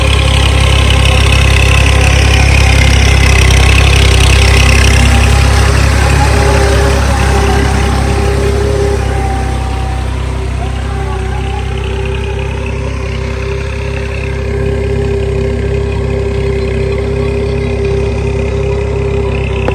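A tractor engine runs steadily in a farm field, a loud, close, low idling rumble that holds for the whole stretch with no talk over it.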